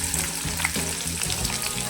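Chopped onion frying in a pan for paneer tikka masala gravy, a loud close continuous sizzle with stirring scrapes.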